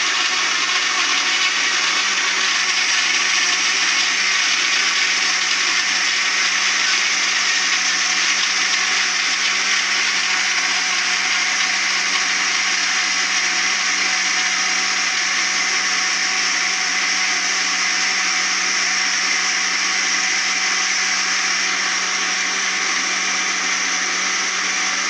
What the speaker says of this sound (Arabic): انا غادي نطحن دابا العصير ديالي